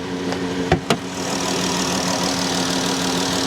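A 2018 Ford F150's 3.6 engine idles steadily with a low, even hum, broken early by two brief sharp knocks close by.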